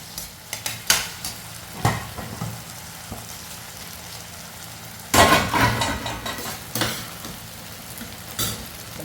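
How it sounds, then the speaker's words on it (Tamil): Brinjal lightly sautéed in a pan for a Thai Kiruthigai festive lunch: soft frying sizzle under repeated scraping and stirring strokes, with a burst of louder spatula activity midway, close up and without talk. "நல்லா வெந்துருச்சு லைட்டாக வதக்கி விட்டால் போதும்"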